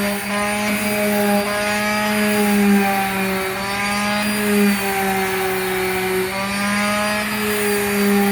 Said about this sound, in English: he's gonna get the power one, the power sander, and he's gonna sand each strip